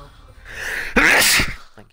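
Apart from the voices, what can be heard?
sneeze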